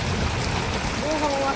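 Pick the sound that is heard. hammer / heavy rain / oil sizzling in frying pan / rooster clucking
heavy rain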